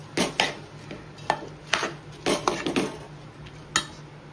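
A spoon scrapes and knocks against a pot as salted rice is stirred and sautéed for chicken biryani, giving irregular sharp metallic clinks and scrapes over a quiet background hum, with no talking.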